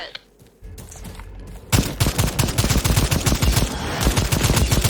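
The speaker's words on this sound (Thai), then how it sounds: "อยากจะยิงปืนอะไรเงี้ย" Gunfire in the video game Second Extinction erupts into rapid, continuous automatic bursts after a quieter opening, loud and relentless through the rest.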